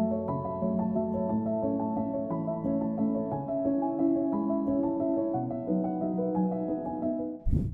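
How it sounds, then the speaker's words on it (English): A Spitfire Labs soft piano plugin plays a MIDI recording of a gentle, muted piano part, with mellow overlapping notes in a steady flowing rhythm and no talk, ending with a brief click. "I go and find the free soft piano instrument."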